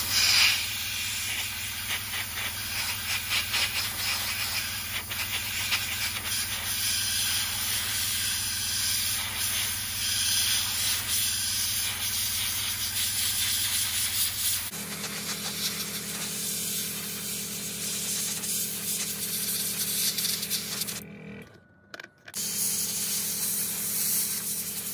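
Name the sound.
spraying black paint onto model railway wagons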